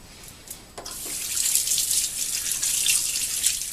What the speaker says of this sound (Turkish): Şimdi zinciri alıyoruz ve lavaboda suyun altında yıkıyoruz.